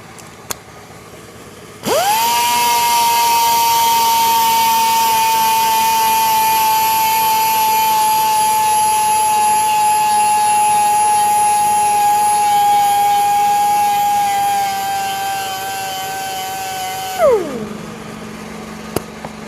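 A power tool whines up sharply and holds a steady high-pitched spin for about fifteen seconds while sanding curb rash on a Kia K4 wheel with a 1500 grit scuff pad, then winds down abruptly.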